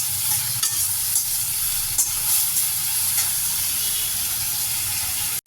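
Pirandai (adamant creeper) sautéed in sesame oil, a steady close sizzle and hiss with light scraping stir strokes throughout, fairly loud and unbroken, with no talking.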